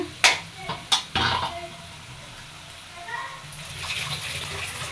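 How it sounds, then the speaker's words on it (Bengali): Water is poured into a pot of sautéed curry to make gravy, a few sharp clinks of utensils early on followed by a soft, steady pouring and sizzling wash. "ঝোলের জল দিয়ে দিব"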